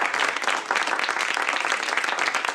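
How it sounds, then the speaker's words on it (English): Dense, steady applause from an audience at a poetry reading, continuous and fairly loud throughout with no voices over it. "Applause, applause."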